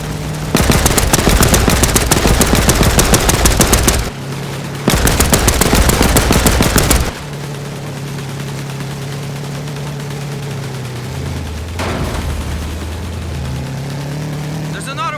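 In the video game Land of War, a machine gun fires at a dive-bombing plane in two long rapid bursts of several seconds each. A steady engine drone follows the bursts, and no one speaks.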